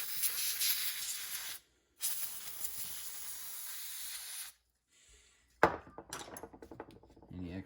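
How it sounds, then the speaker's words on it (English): A can of compressed air blows out a Ruger 57 pistol during cleaning, two long loud hissing bursts separated by a brief gap, followed by faint clicks and rattling handling noises. "So now, usually we'll use a can of compressed air."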